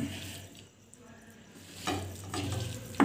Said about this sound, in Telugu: ఇప్పుడు దీన్ని బాగా కలపాలి